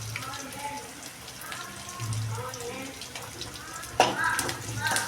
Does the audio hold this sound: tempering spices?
yes